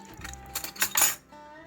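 A metal spoon clinks against a small strainer while garlic tincture is being strained, giving a few close, bright metallic taps in quick succession with no talking.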